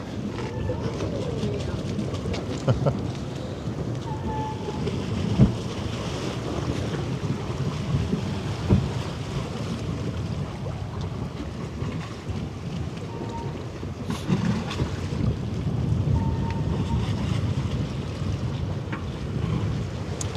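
Wind and waves wash steadily around a ship at sea near an AIDA cruise ship, a continuous broadband rush with wind buffeting the microphone and a few faint knocks.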